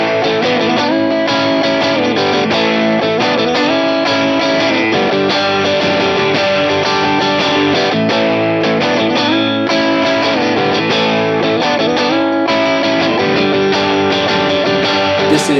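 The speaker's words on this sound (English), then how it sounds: "This is one of the most transparent overdrive pedals that I've tried." Electric guitar played through an Analogman King of Tone overdrive pedal, giving a steady, dense, loud overdriven tone with rich sustained chords throughout and no voices.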